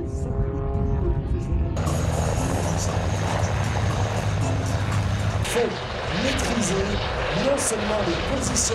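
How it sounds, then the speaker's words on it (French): An old-design biplane flies past at an air show, its engine drone loud and continuous with a shift in pitch, while people talk over it throughout. "C'est cet avion qui est de conception ancienne,"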